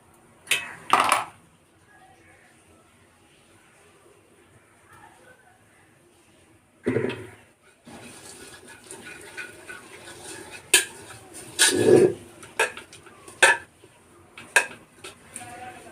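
A metal spoon clinks and scrapes against a pot as ghee is spread inside for layering biryani, with a few sharp clanks separated by quieter stretches of faint rubbing.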